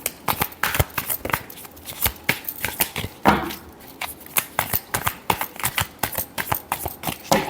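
Tarot cards being shuffled by hand, a close, steady run of crisp riffling flicks and soft slaps repeating throughout with no talking.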